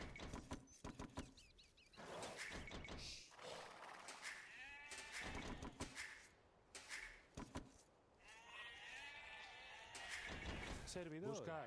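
Sheep bleat repeatedly in the video game Age of Empires, short wavering cries in irregular bursts among clicks and game effects, while someone talks over them.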